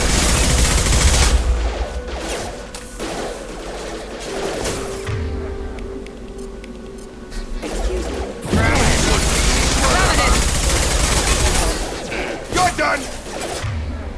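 Gunfire in the video game Mass Effect 2, loud bursts of shots and impacts that ease off midway and then return heavily, with a voice shouting over the fighting.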